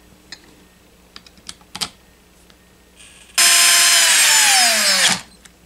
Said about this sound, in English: Reinstall the 2 screws that came out.